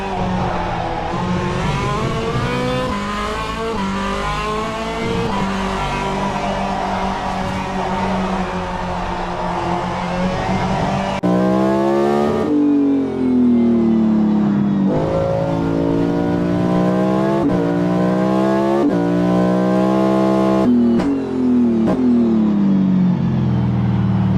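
Onboard engine of a hypercar lapping Road America in a racing video game, a loud continuous high-revving roar that rises and drops through gear changes and braking.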